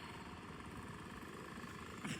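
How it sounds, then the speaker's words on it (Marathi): A tractor being driven through a farm field in the rain, its engine giving a steady, continuous low rumble throughout at moderate distance, with no speech over it. "इकडे तुषार ट्रॅक्टर चालवत आहे बघा."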